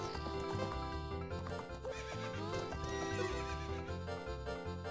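A horse neighs and its hooves clip-clop at a gallop in The Legend of Zelda: Ocarina of Time, with repeated whinnies and rhythmic hoofbeats playing over game music.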